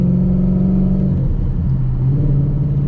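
The tuned Roush Stage 3 Mustang engine rumbles loud and close in the cabin while the driver shifts through the gears, its low drone dipping briefly and then steadying.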